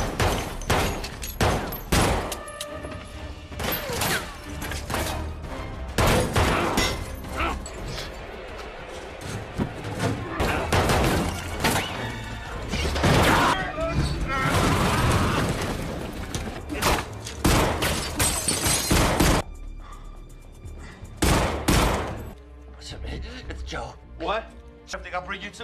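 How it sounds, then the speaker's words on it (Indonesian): Gunfight from the film Death Wish: bursts of gunshots and booming impacts crackle through a dense, loud action soundtrack, with voices talking over parts of it. "Dan terjadilah baku tembak antara Paul dan Fish."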